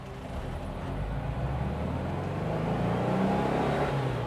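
A Porsche 356 with a rebuilt transmission pulls away in first gear, a steady engine drone that rises gradually in pitch with a faint gear whine, heard from inside the car.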